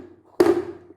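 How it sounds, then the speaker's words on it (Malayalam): A pan of Black Forest cake batter tapped to settle it, one short, close knock with a brief ringing tail. "നല്ലോണം ടാപ്പ് ചെയ്ത് കൊടുക്കുക"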